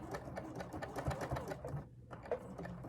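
A sewing machine back tacking and stitching a seam on a batik canvas and cotton jacket, a steady close whirring chatter of rapid needle strokes with a brief pause before stitching resumes.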